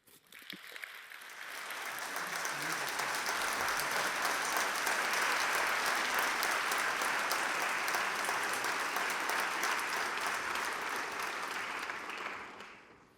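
A ceremonial academy of the University Medical Centre Ljubljana fills with sustained applause from a large audience, dense and loud clapping that swells quickly, holds steady for about ten seconds, then fades.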